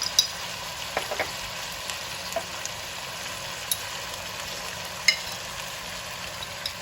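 Chili powder, turmeric and paste frying in oil for Punjabi dhaba-style masala chicken, a soft, steady low sizzle with occasional small clicks of stirring, heard alone.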